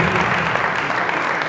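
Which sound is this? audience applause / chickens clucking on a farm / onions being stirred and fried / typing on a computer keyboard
audience applause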